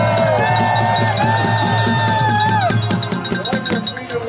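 A large outdoor crowd at a freedom rally cheers and whoops loudly and continuously, with shouts and babble layered over a dense roar that swells and fades a little toward the end.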